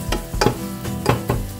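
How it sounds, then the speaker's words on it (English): Ground beef and onions browning in a pan on a stove, with a soft sizzle underneath and a few louder scraping stirs of a spatula at irregular moments, close and moderately loud, with no talking. "I got my ground beef going in here. Put those onions down in and brown it up."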